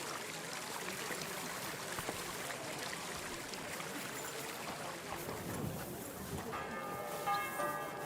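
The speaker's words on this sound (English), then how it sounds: "Well, there's the midday bell," Church bell tolling at midday in Kingdom Come Deliverance II, rather faint and distant over a steady bed of gushing water, with ringing tones growing clearer near the end and no talk.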